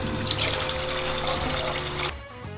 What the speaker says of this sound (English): Just come inside to run some water.